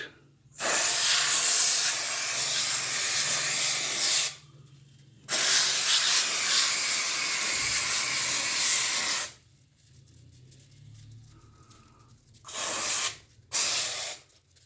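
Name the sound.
spraying 3M air conditioner cleaning foam on a split AC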